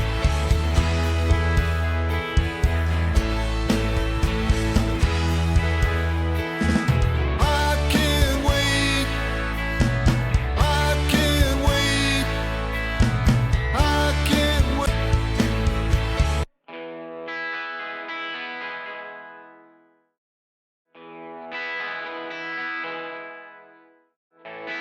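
12-string electric guitar accent parts with chorus and echo, first buried in a loud, full rock mix, then soloed as short jangly shimmering phrases with gaps between them.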